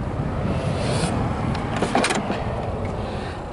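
A 1967 Plymouth Barracuda with a 5-speed at the start of a test drive, a steady low engine rumble idling underneath with a few brief mechanical clicks and a whirring, door-like movement in the middle.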